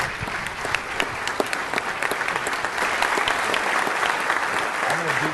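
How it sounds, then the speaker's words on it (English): An audience at a city council regular meeting gives sustained applause for a woman honored as Woman of the Year, with dense, continuous clapping that fills the room from start to finish and a voice faintly heard underneath. "could you give her a round of applause, please?"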